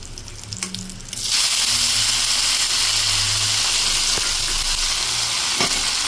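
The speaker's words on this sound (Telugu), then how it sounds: "ఇది ఒకసారి మొత్తం ఇలా కలిపేసుకొని మనం ఉడికించి పెట్టుకున్న సేమియా ఇందులో వేసుకోవాలి" Cooked semiya (vermicelli) being added to a hot pan for pulihora, starting with a few quiet taps before bursting into a loud, steady sizzle and hiss that lasts to the end.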